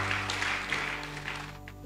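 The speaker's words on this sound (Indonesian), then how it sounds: "Tepuk tangan bagi Tuhan kita." A church congregation breaks into applause, a dense, steady wash of clapping that carries on for about two seconds over a sustained musical tone underneath.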